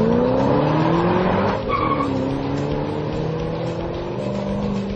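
A Ford Shelby GT500 and a Hennessey Camaro drive hard as a loud engine roar holds steady under long, wavering tire squeals, close and continuous throughout.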